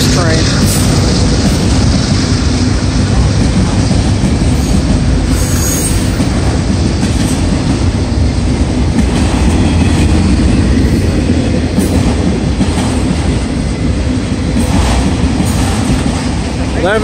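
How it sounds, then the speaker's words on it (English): A heavy CSX freight train rumbles past close by, with a continuous low roar, steady wheel noise and occasional metallic squeals, loud throughout. "Yeah, this is a CSX train."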